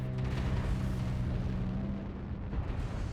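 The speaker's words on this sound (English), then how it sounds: "I cannot see what is going on with all these strikes, explosions happening." Heavy, rumbling explosions and strikes from a chaotic mech battle in a video game, a dense continuous barrage of booms close and loud throughout.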